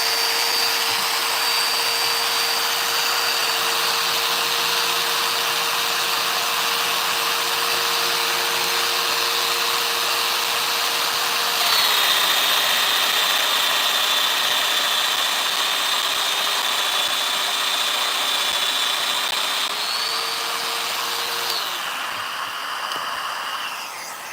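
A woodshop power tool, likely a domino joiner, cuts mortises into chair wood with a loud steady whine that shifts pitch midway, running continuously for the whole stretch without speech.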